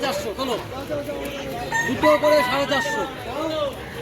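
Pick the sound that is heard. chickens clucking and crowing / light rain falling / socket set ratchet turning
chickens clucking and crowing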